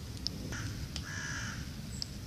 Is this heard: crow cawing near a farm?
yes